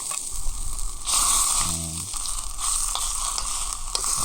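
Fish sizzles in a pan with sour mango at a forest campsite in the Kalimantan jungle, a steady loud frying hiss with small crackles and a brief stirring scrape.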